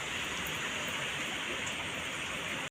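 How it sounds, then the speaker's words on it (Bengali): Steady rain falls continuously in a village setting, a dense, even hiss with occasional brighter drips, close and uninterrupted with no voices. "এবার বৃষ্টি হচ্ছে"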